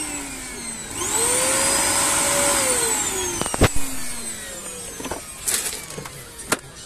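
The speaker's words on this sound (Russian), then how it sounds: "такой есть пылесос Scarlett Indigo. Работает превосходно" A Scarlett Indigo vacuum cleaner starts with a rising whine and runs loud and close for a couple of seconds, then winds down, followed by clunks and knocks of handling.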